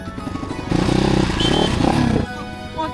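A motorcycle engine roars loudly for about a second and a half, a rising revving growl under a cheerful backing tune, then drops away as the music carries on.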